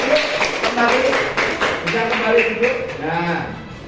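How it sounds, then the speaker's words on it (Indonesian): A classroom group claps briefly for a team of students, quick overlapping hand claps mixed with children's voices and chatter throughout. "tepuk tangan untuk kelompok Mbak Krisna"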